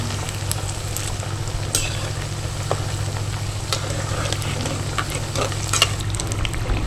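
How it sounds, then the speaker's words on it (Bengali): Semolina and raw potato snacks deep-frying in hot oil until crisp and red, giving a steady, even crackling sizzle with scattered small pops and no talk. "কত সুন্দর ভাজা হচ্ছে না, লাল লাল, একদম কালারটা মুচমুচে করে ভেজে নিতে হবে"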